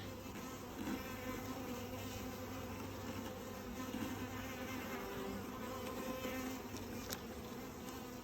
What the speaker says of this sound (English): So here's that nuke right after I shook those bees in.